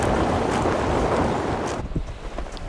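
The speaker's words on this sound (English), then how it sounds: "It's a bit windy and a bit cold today." Wind blowing outdoors on a cold day on Bruny Island in Tasmania, a loud steady roar buffeting the microphone that suddenly drops away to quieter ambience near the end.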